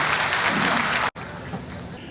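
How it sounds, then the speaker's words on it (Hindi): A crowd applauds Rajnath Singh at a political event in India with loud, dense clapping that cuts off abruptly and resumes a little softer. "जोरदार तालियां श्री राजनाथ सिंह जी के लिए।"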